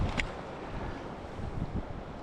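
Wind gusting beside a Pennsylvania creek, a broad steady rush with a few stronger buffets at the microphone, continuous and fairly faint.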